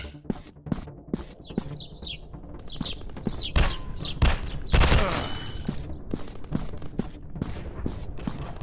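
Gunfire in a first-person shooter game, bursts of sharp shots and rapid volleys rising to a dense clatter midway, with chirpy electronic effects in between, loud and close.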